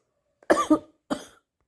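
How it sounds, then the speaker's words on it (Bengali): Two sharp coughs from one woman, close and clear, a quick double cough followed by a short pause and a third cough. "যখনই একটানা কথা বলছি আমার ভীষণ কাশি হচ্ছে"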